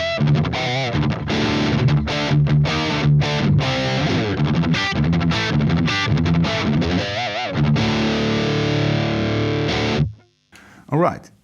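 Clean electric guitar chords and single-note runs ring out through a Jason 800 amp with no overdrive, loud and close, then stop with a brief pause and a final strum.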